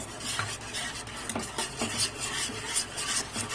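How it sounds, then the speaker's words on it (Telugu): Milk being stirred into a creamy mixture for a no-oven veg pizza, a steady soft scraping and swishing of a spoon around a bowl with light rhythmic strokes, close and continuous with no talking. "ఫ్రెష్ క్రీమ్ అలా వచ్చినంత వరకు కలుపుకోవాలి"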